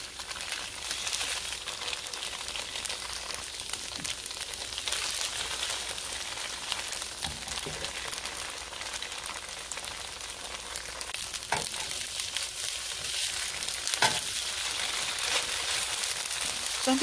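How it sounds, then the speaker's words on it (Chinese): Tofu fries in hot oil in a pan over medium-high heat, a steady, moderately quiet crackling sizzle lasting throughout, broken by a few faint pops and light scrapes. "用中大火煎豆腐。"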